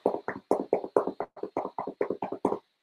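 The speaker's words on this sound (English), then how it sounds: "Take both hands, place them on your belly. And tap your belly." Both hands tapping on a belly in a quick, uneven run of about a dozen soft, dull pats, close and alone, ending abruptly.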